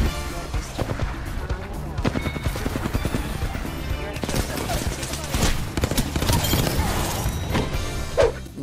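Gunfire in the video game Apex Legends, with dense bursts of automatic fire, sharp single shots and impact crashes that overlap across the whole stretch, loud and close.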